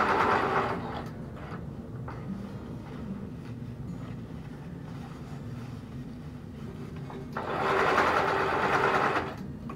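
Electric sewing machine stitching fabric down over a wire, a steady close motor whir with rapid needle chatter, running in a long continuous stretch and rising louder toward the end.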